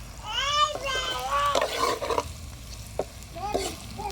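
Sliced okra fries and sizzles in hot oil as it is stirred in a pan, soft crackling under scraping strokes, with a voice and high chirping sounds nearby.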